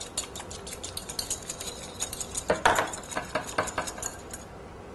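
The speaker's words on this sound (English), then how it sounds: "Whisk that in." Whisk clinking rapidly against a bowl while a salad dressing with olive oil is beaten, a close, bright metallic ticking in quick uneven strokes with no talking.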